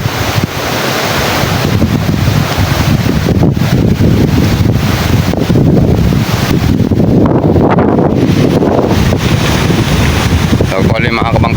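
Strong wind and crashing sea waves at a shore during Typhoon Crising, with boats pulled up nearby: steady loud roar of surf and gusting wind buffeting the microphone.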